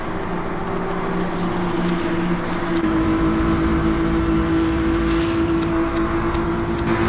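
Two BMW race cars duel in Le Mans Ultimate, giving a steady loud engine drone with a held pitch that shifts once partway through. No talking.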